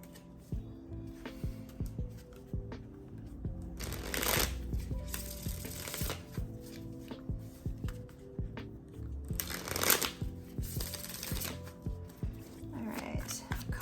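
Tarot cards being shuffled, with a soft flutter and riffle in two distinct bursts amid quieter handling and light rustling, close and fairly faint.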